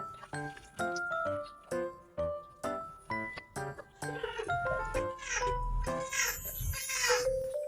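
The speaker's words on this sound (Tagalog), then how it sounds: "Ang ingay ng pusa" A pet cat named Ming-Ming meows noisily in a kitchen while pork igado is being prepared, several loud cries rising and falling under background music and kitchen clatter.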